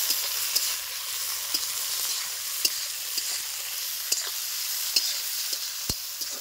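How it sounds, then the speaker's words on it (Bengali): Chopped tomato sizzling in hot oil while being stirred, with a steady frying hiss and intermittent scraping clicks of a spoon against the pan, close and continuous without talk. "টমেটো কেটে রাখা সেটাও দিয়ে দেবো তেলের মধ্যে। একটু নাড়াচাড়া করে নেব।"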